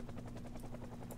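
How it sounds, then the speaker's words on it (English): A helicopter's rotor in the video game Project Zomboid chops in a quick, steady rhythm, faint and distant, over a low constant hum. "the helicopter"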